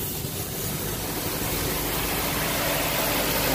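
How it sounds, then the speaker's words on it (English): A Nissan Versa Note sits idling with the AC on and its radiator cooling fan spinning, giving a steady, even engine hum and broadband fan whoosh that hold constant throughout at moderate level, with no talk. "Now let's go see if the fan is spinning."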